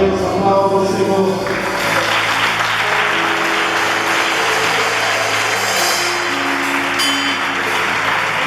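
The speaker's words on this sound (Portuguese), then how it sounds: "Graças a Deus, aplauda o Senhor." Congregation applauding in a Portuguese-speaking evangelical church, a steady, loud wash of clapping that fills the room throughout, with sustained musical tones from instruments or voices underneath.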